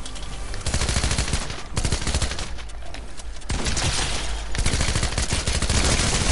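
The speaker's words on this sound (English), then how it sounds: "I got a shotgun." Loud gunfire from the Fortnite video game, shotgun blasts among rapid overlapping shots, rattles on without pause and with no voices over it.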